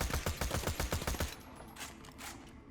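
Rapid automatic bursts from a Scav SMG in the video game Borderlands The Pre-Sequel rattle off in a fast, even string of about a dozen shots, then give way to softer echoing tails and faint impacts.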